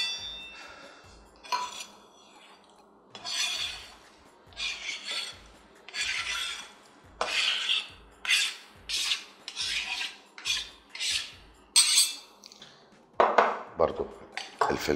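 Metal cooking pots and pans handled on a stovetop while a large pot is heated for a pasta and vegetable dish: repeated scraping, rubbing and clanging strokes, moderately close, coming in uneven bursts with short pauses between.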